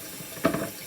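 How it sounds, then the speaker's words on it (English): A kitchen tap runs briefly into a sink as snow crabs are rinsed before a seafood boil, a short soft splash that swells then fades, close by and alone. "Just rinsing off my snow crabs, you guys, and I'm putting them in a pot."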